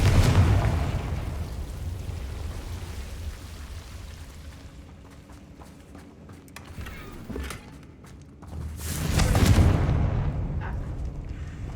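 A Confringo explosion spell in the Hogwarts Legacy game, first a deep rumbling blast that fades away, then a second loud boom near the end with crackling debris.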